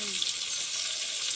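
Chopped onion and tomato with salt frying in a pan for catla fish curry, a continuous bright sizzle close by, steady and alone without talk.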